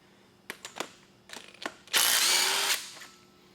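Power tool with a 10mm deep socket backing bolts off the power steering pump on a Ford 5.4L 3V V8 during teardown: a few ratcheting clicks, then a loud, close whirring burst lasting under a second, with no talking.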